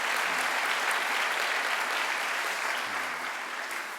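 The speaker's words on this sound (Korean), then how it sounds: "박수로 한번 감사를 표현하십시다" A chapel audience at a Baptist theological university applauds, a dense, continuous roar of many hands clapping that holds steady and then eases off slightly toward the end.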